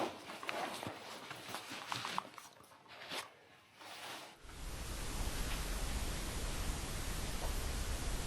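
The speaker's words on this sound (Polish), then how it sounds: "Rzeka to jest jedno, słyszę rzekę." Steady, broad rushing of water fills the second half, a continuous even roar after scattered rustling and handling noises at the start.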